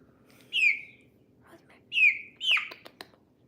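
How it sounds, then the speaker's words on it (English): A pet bird chirps close by in a quiet room: three clear whistled chirps, the last two close together, followed by a few soft clicks. "Chirp."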